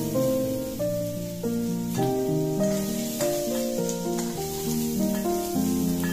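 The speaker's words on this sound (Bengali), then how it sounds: "এঁচোড়টা ভাজা হয়ে গেছে" Young jackfruit pieces fry in oil in a pan, making a steady hiss and sizzle that sits under louder background music with a stepping melody.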